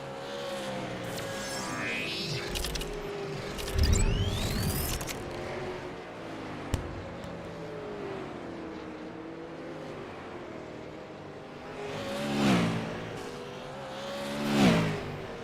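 Race cars lapping Hickory Motor Speedway in iRacing, engines droning at a distance with tire squeal, then louder swells as cars rev and pass close by near the end.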